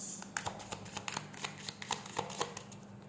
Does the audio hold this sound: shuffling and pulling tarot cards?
yes